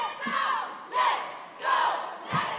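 Crowd yelling in bursts at an elite cheerleading championship final, with loud swells of shouting roughly every second or so as stunts lift signs, no talk.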